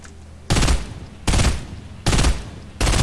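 Loud bursts of assault rifle fire from a Fortnite match repeat in four rapid volleys, each lasting about half a second and separated by short gaps.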